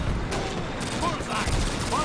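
Gunfire from the World War II shooter Call of Duty: United Offensive, with several rifles firing in scattered, overlapping bursts against a busy battle backdrop for about two seconds.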